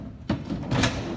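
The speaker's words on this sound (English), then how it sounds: "we now lift the drawer centre" A vehicle drawer centre being lifted into a drawer inner during a fit-out, giving two close knocking clunks of hard parts meeting, followed by a brief scraping slide, with no talking.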